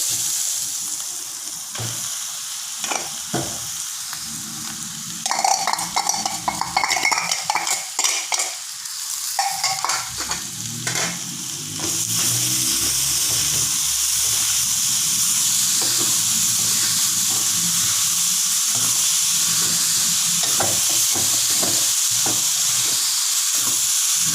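Pieces of shark fish are stirred and fried in a pan for shark puttu, steady loud sizzling and hissing with scraping stirs that grow denser into a continuous fry.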